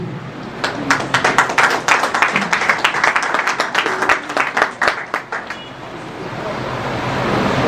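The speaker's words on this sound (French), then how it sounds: "je vous demande de l'applaudir" An audience at a university faculty's 125th anniversary ceremony in Cap-Haïtien claps in a loud, dense burst of applause that fades after about five seconds into a steady windy outdoor hiss.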